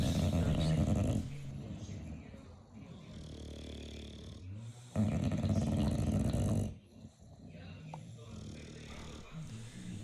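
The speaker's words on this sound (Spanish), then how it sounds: "cuando están durmiendo profundamente y están roncando profundamente" A bulldog snoring in deep sleep, rough rattling snores in two long loud bursts with wheezy breaths between them, close by, with no talk.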